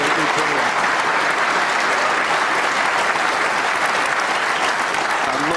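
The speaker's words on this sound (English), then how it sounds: "And much appreciated by this packed crowd." Loud, dense applause from a packed snooker crowd, a continuous steady wash of clapping that holds at full strength throughout without a break.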